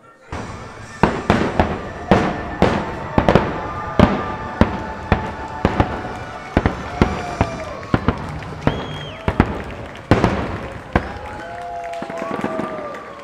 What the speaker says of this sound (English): So I can totally hear the fireworks though.